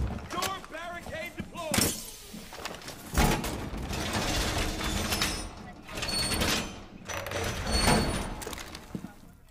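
A wooden door barricade being deployed in Rainbow Six Siege, heard as a run of ratcheting, creaking mechanical clatter and snapping impacts, mixed with gunfire-like bursts and game voice chatter throughout.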